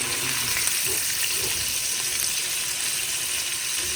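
Prawns for restaurant-style tempura frying in hot oil, a dense continuous crackling hiss that holds steady and fairly loud throughout, with no voices.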